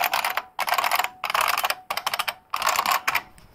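Loud, clacky typing close by on a Unicomp Mini M, a modern IBM Model M style buckling-spring keyboard with dye-sub keycaps, in quick bursts of keystrokes separated by short pauses.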